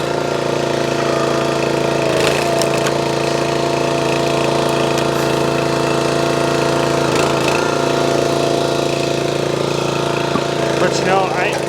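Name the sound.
SuperHandy 25 ton log splitter engine running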